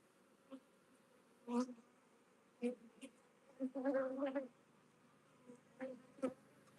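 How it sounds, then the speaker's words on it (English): Honeybees from a swarm near a backyard hive fly past in short buzzing bursts, several separate passes rising and fading over a quiet background, faint to moderate and with no speech. "I'm actually glad most of the bees went back to the main hive"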